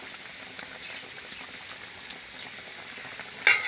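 Sardine fish curry bubbles gently in a pot, a soft steady simmering patter at low volume, ending with a brief louder clatter.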